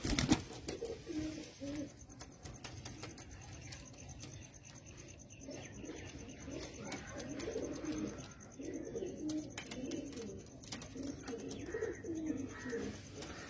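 Pigeons, a breeding pair of male and female birds, coo softly and repeatedly against low background noise. The calls come as steady, overlapping murmurs throughout.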